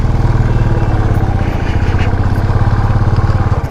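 A motorbike engine labors steadily uphill on the steep, dangerous mountain road to Sach Pass, a close, loud, continuous throbbing drone with no talking.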